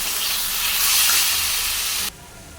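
Spices with turmeric and Kashmiri chili cooking in oil for a katla fish curry with potato and eggplant, producing a loud, close hissing sizzle that cuts off abruptly near the end, leaving a quieter background.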